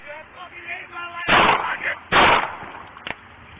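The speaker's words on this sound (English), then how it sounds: "shots fired" Gunshots from police officers during a confrontation with a suspect: two loud, sharp broadband blasts about a second apart, followed by a smaller crack, over a tense outdoor background.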